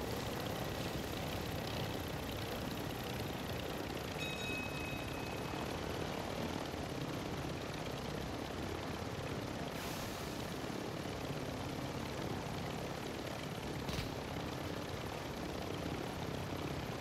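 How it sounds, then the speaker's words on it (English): A helicopter in Call of Duty: Warzone drones with a steady, dense rotor and engine roar throughout, loud and continuous with a couple of faint brief clicks over it and no talk. "Need to repair this chopper."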